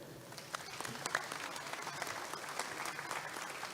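Audience applause at the Navajo Nation Presidential Forum hosted by the NTU Student Senate: a steady wash of many hands clapping, fairly soft and sustained throughout.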